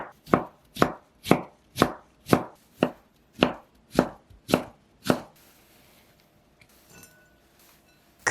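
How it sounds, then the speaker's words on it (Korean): A kitchen knife strikes a cutting board about ten times in a steady rhythm while julienning a carrot into thin strips, then stops, leaving faint clinks and quiet handling. "당근 한 개는 얇게 슬라이스 해준 다음 가늘게 채 썰어 줄게요."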